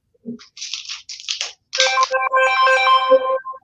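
A phone ringtone plays nearby: short bursts of bright electronic tones, then a longer melodic chirping phrase, fairly loud with no voices.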